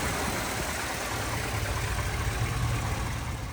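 A Chevrolet Tahoe with a high-output alternator idles steadily, a low, even engine rumble with a faint vibration running unbroken throughout, no voices.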